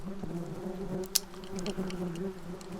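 Yellowjacket wasps buzz close by in a steady, thin hum with a brief sharp tick partway through, and nobody speaks.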